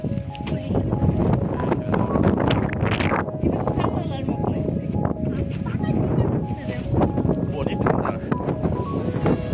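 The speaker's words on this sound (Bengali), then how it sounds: "ওরে বাবা কি ঠান্ডা বাতাস" Cold wind buffets loudly in gusts in Portugal, roaring across the microphone while people talk and shout over it.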